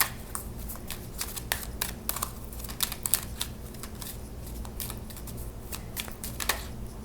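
Playing cards shuffled for a pick-a-card tarot-style reading, a rapid run of crisp riffling clicks and flutters repeating steadily, close and fairly quiet, with no talking.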